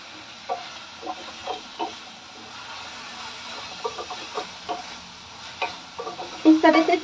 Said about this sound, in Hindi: इस तरह से चलाते हुए हमें प्याज को फ्राई कर लेना है।